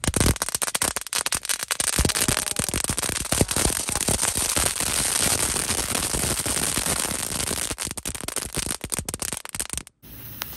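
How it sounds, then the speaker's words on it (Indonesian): Five packs of "telur dino" firecrackers burst at once in a rapid, dense, loud barrage of crackling pops that runs continuously for several seconds and stops abruptly. "Langsung saja kita nyalakan mercon telur dino pretek 5 pak sekaligus guys"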